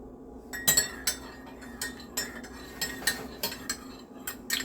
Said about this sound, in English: And then you stir.